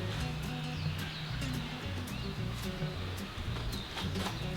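Chickens around a coop on a rainy homestead, with soft coos and chirps over a steady background of rain and ambient noise, moderately close and with no talking.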